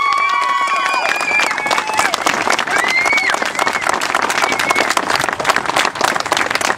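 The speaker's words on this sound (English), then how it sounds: "He deserves our support, and he deserves a round of applause." Applause from a crowd at a Rhode Island citizens' protest rises over mixed voices and cheering, a dense, continuous clatter of clapping that stays loud throughout.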